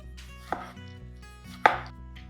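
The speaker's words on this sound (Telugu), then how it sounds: "ఒక రెండు టమాటాలని కట్ చేసి ఇందులో వేసుకుందాం" Two sharp knife strikes on a cutting board, spaced apart, as two tomatoes are cut for a one-pot sambar rice; close and clear, with no voices.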